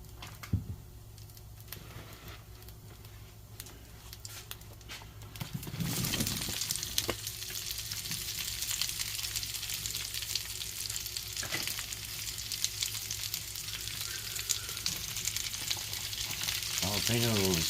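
Sliced peppers, onions and seeded jalapenos fry in a pan on an indoor stove for a chicken quesadilla; after a quiet start with faint clatter, a loud, steady sizzle surges in and carries on to the end.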